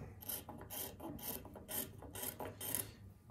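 Repeated scraping strokes as wood is shaved from the inlet of a wooden gun stock, about six rhythmic rasping passes in quick succession, close and fairly quiet, with no talking.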